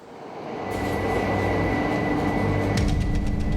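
A Tokyo subway train heading into the city centre runs with a steady, loud rumble and whine that swells in the first second, then holds, heard from on board.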